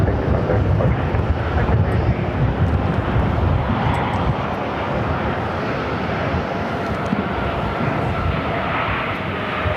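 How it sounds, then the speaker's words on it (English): An Embraer ERJ-135ER regional jet takes off at Phoenix airport, heard as a steady, loud broadband engine roar that holds for the whole stretch with some wind buffeting on the microphone. "That was Contour heading to Sholo, Arizona, flight 3386, and Embraer ERJ-135ER."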